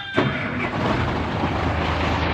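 A Fuso 10-wheel truck's diesel engine turns over and catches, then keeps running with a steady, rough low rumble close by.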